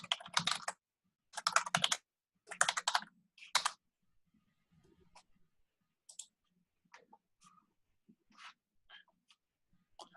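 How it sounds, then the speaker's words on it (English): Bursts of quick typing on a computer keyboard during an online meeting, with four close, crisp clusters of keystrokes followed by sparse isolated clicks and taps. "I typed, you probably heard me typing, I forgot to mute"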